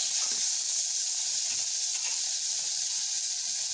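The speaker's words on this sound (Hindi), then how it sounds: "अब इसमें हम ये चॉप किया हुआ टमाटर डाल देंगे।" Chopped tomatoes sizzle in a cooking pot for a vegan spinach curry, giving a steady, close, bright hiss with faint crackles throughout and no talking.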